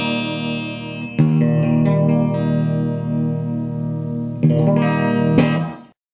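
A Gretsch G5135PS electric guitar with all three pickups blended rings out sustained chords with a warm, slightly driven, shimmering tone, loud and close, with a second strum partway through and no voices.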